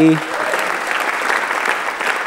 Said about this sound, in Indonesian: kasih tepuk tangan untuk Ernest yuk